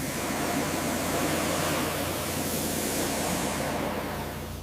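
Rushing water flushes silt away during the restoration of a flood-damaged 1969 Mercedes 280SE Cabriolet, a steady broadband hiss and gush that holds at an even level and fades slightly at the end.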